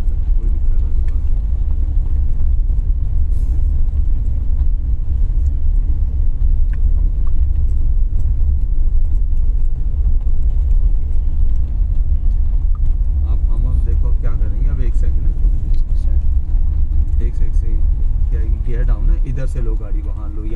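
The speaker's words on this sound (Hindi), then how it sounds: "बस चलने दो गाड़ी को" Engine of a 2024 Tata Punch driving slowly, a steady low rumble that holds throughout, with an instructor's voice talking over it at close range.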